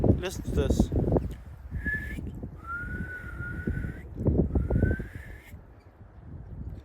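A beginner whistles three thin, wavering tones, each held for about a second or more, with breathy wind-like blowing and rustle around them at close range.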